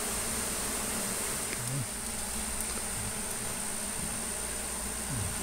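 A honeybee swarm handled at night buzzes as a dense, steady drone that fills the whole stretch, close and continuous, with no speech over it.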